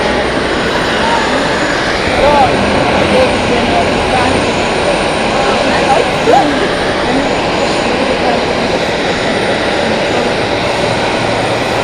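A steady, loud aircraft engine roar at Zurich Airport, holding constant throughout like a nearby plane running or taxiing, with broadband outdoor noise.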